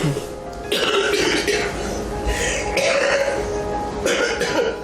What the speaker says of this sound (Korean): 제 기능을 잃은 폐는 조금만 움직여도 숨이 차면서 심한 기침을 쏟아냅니다.